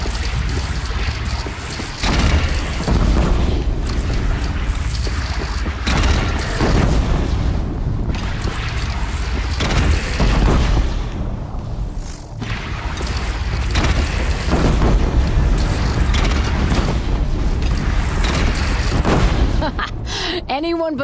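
Cannon fire in Horizon during a battle with a bandit clan: repeated heavy booms thud through a dense mix of combat noise, loud and close, with several distinct blasts spread across the stretch and battle din between them.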